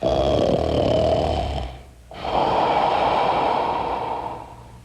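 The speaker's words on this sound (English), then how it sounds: "he was snoring as loud as thunder" Loud, rumbling snoring with a rough, roaring texture, two long drawn breaths separated by a brief pause, heavy and close.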